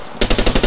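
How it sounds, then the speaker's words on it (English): Machine gun fire in the Arma 3 video game, a loud, close burst of about five rapid rhythmic shots after a moment of near silence. "Well, I got a machine gun."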